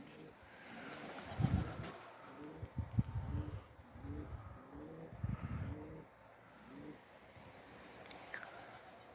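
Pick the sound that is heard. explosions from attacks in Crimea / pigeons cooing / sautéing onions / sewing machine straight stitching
pigeons cooing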